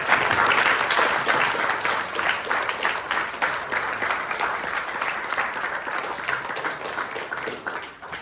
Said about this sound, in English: would like to just give him a large round of applause for his success